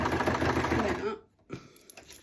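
Sewing machine stitching through an oversized hot pad, a fast close mechanical whirr of needle strokes that runs for about a second, stops abruptly, then gives way to quieter handling sounds.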